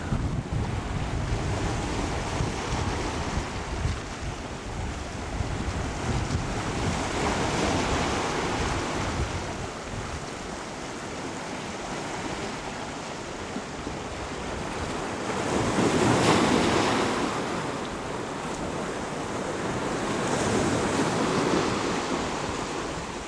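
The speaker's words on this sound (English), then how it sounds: "the sea is a lot higher and wilder" Rough, high sea surf breaks and rolls along a rocky Mallorca shore on a wild day, with heavy wind buffeting the microphone and surges of wave noise swelling loudest midway through.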